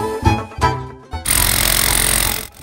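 A jackhammer pounds street pavement in a loud, rapid, sustained burst for over a second, preceded by a few scattered heavy thuds.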